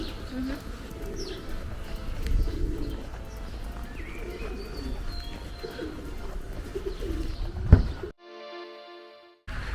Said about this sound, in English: A lot of pigeons.